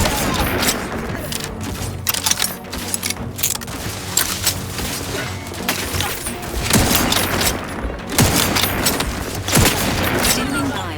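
Heavy gunfire in the video game The Outer Worlds 2 at Golden Ridge, loud sustained volleys of rapid shots with booming impacts, close and continuous with brief lulls between bursts.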